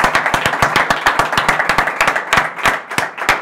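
Audience applause at the close of a conference talk on advertising and media, a dense burst of many hands clapping steadily and fairly loud throughout, with no voices over it.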